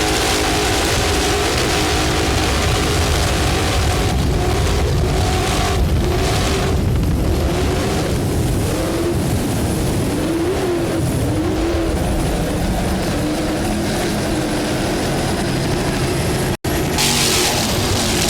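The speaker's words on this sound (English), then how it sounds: "South Mercury, a 36-foot skater, powered by Mercury. Two 750 horsepower Mercury inboards." Racing powerboat engines from a 36-foot Skater with twin 750 horsepower Mercury inboards at a powerboat shootout in Corpus Christi, Texas: a loud, continuous roaring rumble with surging pitch, close and unbroken, with a brief dropout near the end.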